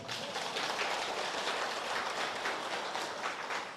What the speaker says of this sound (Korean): 똑대기 알아볼 사람만 박수 한번 쳐볼게요